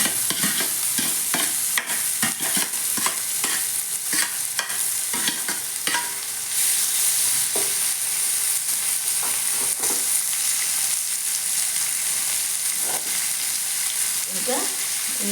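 Cumin seeds frying in hot oil in a pan while a spoon stirs, steady close sizzling crackle with repeated scraping and clinking of the utensil, continuous throughout, no one talking.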